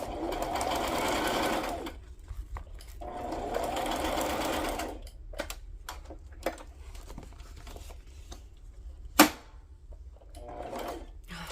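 A sewing machine stitches a glassine wax paper pouch in several bursts of steady, rapid whirring separated by pauses, with small clicks and paper handling sounds between runs and a sharp knock near the end.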